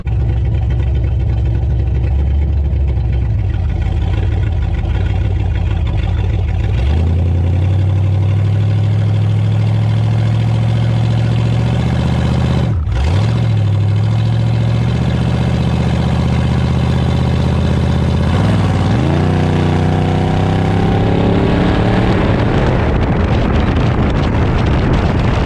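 A Chevy S10 engine roars loudly on nitrous, climbing steadily through the gears, with a brief shift break midway and wind buffeting the microphone throughout.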